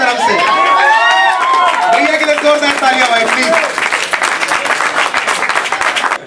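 Open-mic poetry audience clapping and cheering, with shouts and whoops riding over dense applause that thins slightly toward the end; a voice is heard in the mix.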